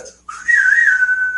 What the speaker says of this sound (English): That's a whistle.